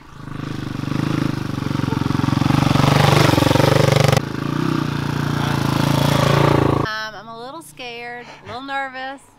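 A dirt-road motorbike ridden in Oregon, its engine droning steadily and loudly up close for several seconds before cutting away; excited talk follows at the end.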